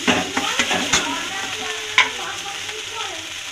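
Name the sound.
stir-frying cabbage leaf paste with turmeric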